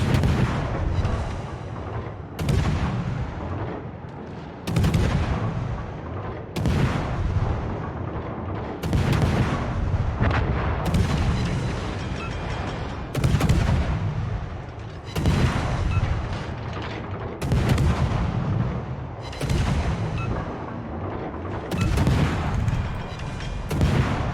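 Naval artillery shells firing from a Tier 8 Kiev destroyer in World of Warships, heavy booming salvos repeating about every two seconds, loud and close with a rumbling tail after each shot.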